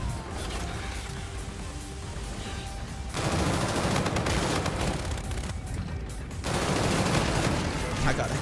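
Call of Duty: Infinite Warfare team deathmatch gunfire: sustained, loud automatic bursts of rapid shots with crashing impacts, growing heavier in the later stretches and nearly continuous throughout.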